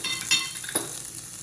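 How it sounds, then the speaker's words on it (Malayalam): Chopped ginger and long-sliced garlic hit hot oil in a pan for a Kerala-style curry, giving a steady close sizzle with a brief stir and a couple of soft utensil scrapes. "ഇനി ഇതിലേക്ക് നമ്മൾ നീളത്തിൽ അരിഞ്ഞു വെച്ച വെളുത്തുള്ളി ചേർത്ത് കൊടുക്കാം."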